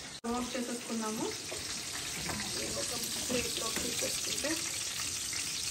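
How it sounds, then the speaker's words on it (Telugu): Chicken lollipops deep-frying in hot oil give a continuous crackling sizzle, close and steady, with a voice talking over it at the start. "బాగా కాలినాయి కదా, మంచి డీప్ ఫ్రై"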